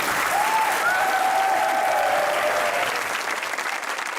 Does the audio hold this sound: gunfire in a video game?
no